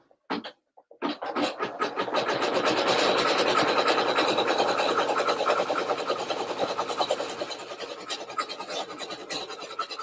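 A sewing machine stitches a straight line along a dye line for embroidery, starting after a few short bursts. Its fast, even mechanical chatter runs continuously and nearby, easing slightly toward the end.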